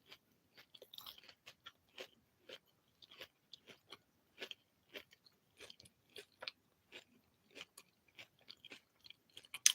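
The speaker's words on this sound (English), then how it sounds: "I gotta stop chewing so I could talk" One person chews food close to the microphone, making steady, irregular wet crunches and bites that repeat through the whole stretch in a quiet room with no talking.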